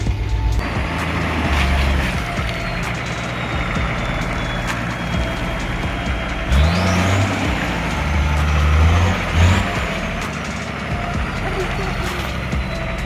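A small home-built mini monster truck drones steadily outdoors amid rough background noise. Its motor surges louder in two short bursts of acceleration partway through.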